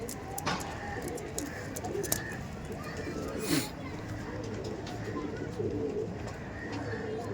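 Malbai pigeons settled in a loft give soft, low cooing calls that repeat on and off over a steady murmur of background noise, with faint voices and rustling nearby.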